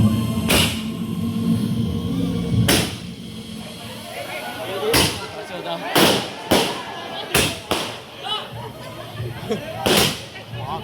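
Fireworks set off outdoors at a departmental farewell event: a series of sharp, loud bangs, about eight, spaced irregularly and coming faster toward the end, with crowd chatter and voices underneath.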